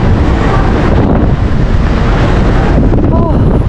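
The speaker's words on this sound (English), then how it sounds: "Oh, right, prepare for the wind." Strong wind blasts along Blackpool seafront in a loud, unbroken roar, with a brief voice cutting through near the end.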